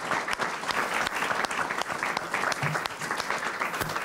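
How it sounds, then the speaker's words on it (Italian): Dense, steady applause from an audience filling a hall at a Virtus Cassino basketball club gathering, loud and continuous throughout with no talk over it. "per questo meritano un applauso"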